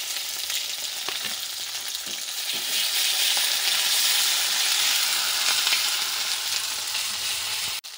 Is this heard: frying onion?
yes